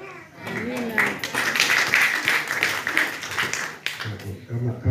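A church seminar congregation claps together in a dense, steady burst of applause lasting several seconds, with voices talking over it throughout.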